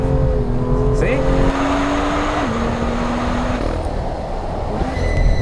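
A 2016 BMW M2 engine pulls hard under throttle while exiting a corner, giving a steady, loud drone whose pitch climbs, dips briefly and climbs again as the car rotates through the bend.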